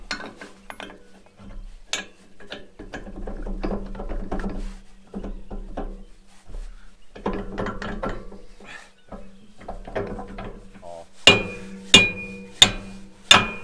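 Metal trailer ball hitch used in place of a hammer, giving a run of sharp clanking strikes that grows into four loud, evenly spaced impacts at the end, with mechanical rattling between.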